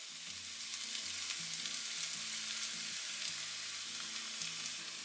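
Beaten egg hits a hot pan of onions and fries with a soft, steady sizzle, heard faintly throughout beneath quiet background music with a few light stirring ticks.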